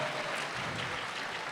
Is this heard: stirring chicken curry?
no